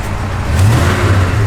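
A 1967 Chevrolet Chevelle SS engine revving, a loud, close, low rumbling roar that swells slightly through a short burst.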